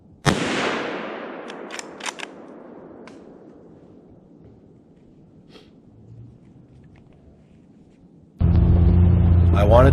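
A single rifle shot cracks loudly during a deer hunt in wooded country, its echo rolling away and fading over several seconds before a louder burst of other sound cuts in at the end.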